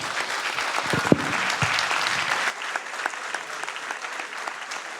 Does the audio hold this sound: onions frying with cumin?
no